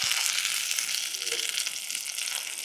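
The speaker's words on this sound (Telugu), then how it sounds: "తాలింపు చూసారా పర్ఫెక్ట్గా ఎట్లా వేగిందో ఇట్లా వేగాలి." Garlic and green chilies sputtering in hot oil for a tempering, a bright, dense crackling sizzle heard up close and steady throughout.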